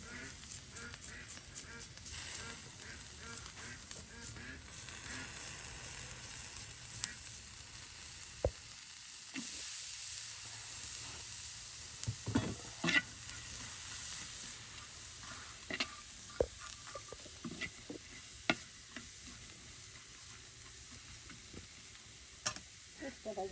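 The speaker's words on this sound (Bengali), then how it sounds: "মরিচ, কাঁচামরিচ, রসুন ভেজে নেওয়ার পর তিসি ভেজে নেওয়া হবে।" Flaxseed frying in a pan after chili and garlic, a soft steady sizzle with scattered crackles and stirring clicks, fairly faint, with some faint background voice.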